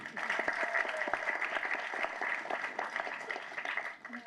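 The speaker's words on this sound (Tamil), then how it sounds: "கைத்தட்டுங்க அவங்களுக்கு" A crowd applauds at a Tamil film audio launch, a dense, continuous burst of clapping held at an even level for several seconds, with some voices mixed in.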